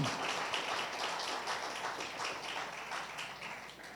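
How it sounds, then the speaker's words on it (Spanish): Church audience applauding at an Easter sermon, a dense steady patter of many hands clapping, moderately faint and sustained, slowly fading toward the end. "Denle un aplauso al Rey de Reyes."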